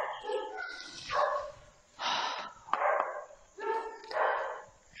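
A dog barks in several distinct bursts, close by, separated by short pauses with some breathing and snorting between them.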